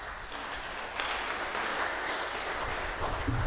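Church congregation at an English Sunday service claps in praise to the Lord; a soft, steady wash of many hands clapping together, slightly swelling partway through, with no voices on top.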